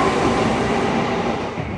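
Steady, loud rumble of a passenger train running on rails between Yokohama and Kobe in Japan, heard from inside a carriage as a continuous broadband roar with no voices.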